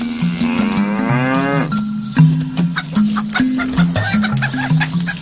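A cow moos repeatedly on a farm, long rising and falling calls, loud and close, with a few shorter lowing sounds following the first drawn-out moo.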